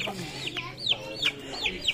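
Chickens and a black rooster cluck steadily while grain is scattered for them, a quick run of sharp, close clucks and squawks at a fairly even rhythm.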